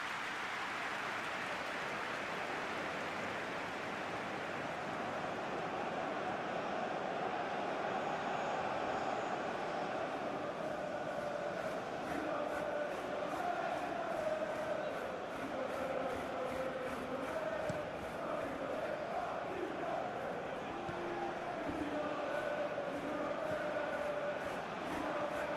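Stadium crowd noise from a PES 21 football video game match between RC Strasbourg and Olympique Lyonnais, a steady roaring wash of many voices that swells slightly midway, heard continuously and alone.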